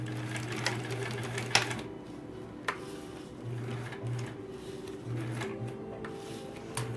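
Sewing machine stitching appliqué fabric pieces onto a quilt block, a close mechanical hum running in short bursts with pauses between, plus a few sharp clicks and taps.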